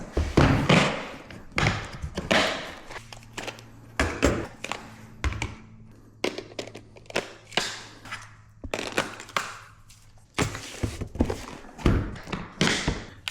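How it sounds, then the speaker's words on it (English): Camera lens being swapped: a long run of close plastic and metal clicks, taps and thuds as the lens is twisted off and mounted, with a faint steady hum underneath. "I'm gonna change lenses."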